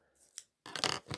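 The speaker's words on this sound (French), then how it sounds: "vous prenez votre paire de ciseaux et vous coupez sur les traits pour pas aller plus loin" Scissors snip through paper while a paper flower is cut out, giving a brief faint slide followed by a sharper, closer crisp cut, all close up with no talking.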